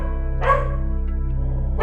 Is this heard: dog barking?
yes